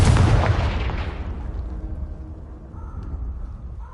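A Confringo fire spell explodes in Hogwarts Legacy, a loud, close blast that starts at full force and then rolls off into a long, fading rumble with a faint crackle.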